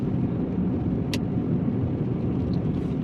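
A car drives steadily through rain while overtaking cyclists, giving a continuous close road rumble with wet tyre hiss that holds at an even level throughout, with one brief sharp tick partway in.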